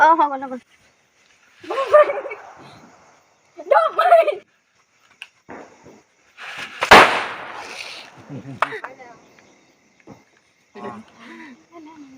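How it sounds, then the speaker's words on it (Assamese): A single sharp bomb firecracker bursts at home during Diwali, a loud close bang amid bursts of people talking and quieter stretches. "আমাৰ আপা একদম বম ফটকা ফুটাব দেখা দিছে"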